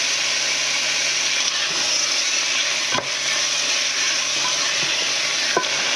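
Chicken is stirred into fried rice with garlic in a hot pan, under a loud, continuous sizzle and hiss. A few soft utensil scrapes and knocks stand out, close by, with no talk.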